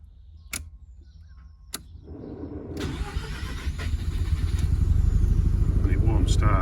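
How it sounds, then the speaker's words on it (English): A turbocharged rotary engine in a Mazda RX-7 FC warm-starts after a short cranking burst, then settles into a steady, growing idle that rises in loudness, with a couple of sharp clicks beforehand. "And it warm starts just about."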